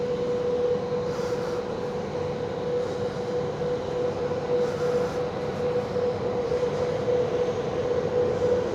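Steady, continuous rumble and hum inside a silver, black and red Vias Flirt 3 regional train in motion, with a constant tonal drone over broadband rolling noise and no talk.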